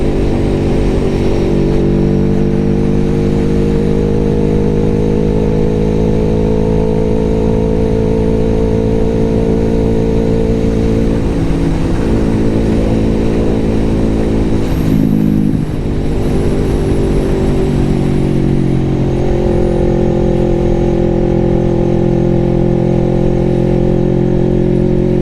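A Kawasaki motorcycle rides around the block, its engine droning loud and steady throughout with harmonic whine shifting as it accelerates, slows midway, then pulls away again.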